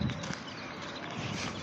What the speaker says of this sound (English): Horses you could ride.